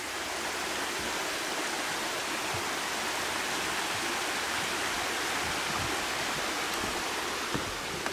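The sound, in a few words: flowing stream water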